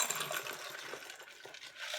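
A cocktail is poured over ice into a double rocks glass, giving a brief clinking, splashing rattle of liquid and ice cubes, close and fairly quiet.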